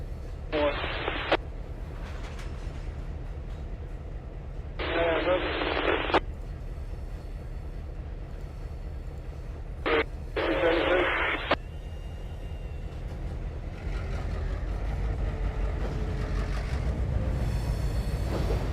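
Railroad radio chatter from Waycross heard through Trainz TRS19 gameplay, several short bursts of squelchy radio transmission separated by gaps, over a steady low rumble of train noise, with a voice talking at times.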